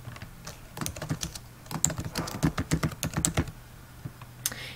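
Someone types on a computer keyboard while editing a Google Docs document, producing a quick, irregular run of close, crisp key clicks that bunches into a fast burst in the middle and then tapers off, with no voices.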